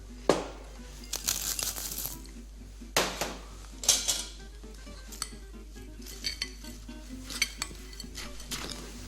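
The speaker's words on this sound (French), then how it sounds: "mélangez à la farine" Coarsely crushed coffee beans are stirred into flour with irregular scraping, clinks and crinkly rustles of a utensil against a bowl, close and fairly loud in short bursts, no voices.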